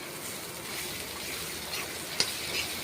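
Potatoes frying in a pan give a close, steady broadband sizzle with one brief clink of a utensil near the end.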